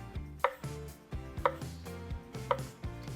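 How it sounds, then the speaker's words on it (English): A banana being sliced on a board for no-bake peanut butter chocolate cups, three evenly spaced knife taps ringing out clearly, near and alone. "I'm gonna get some nice banana slices"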